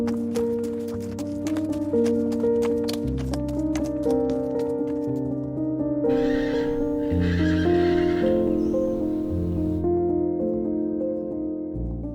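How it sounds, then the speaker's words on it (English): A small herd of Burchell's zebra, a plains zebra subspecies, moves across open grassland in Rwanda toward a shallow stream, with repeated whinnying calls and some hoof clatter, fairly close and continuous. "of Burchell's zebra move in small groups, quietly making their way toward a shallow stream"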